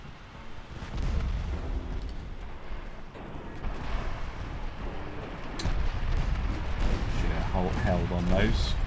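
Six-inch naval guns firing in a naval combat video game: deep, rumbling booms rolling under steady background noise, with people talking over the gunfire.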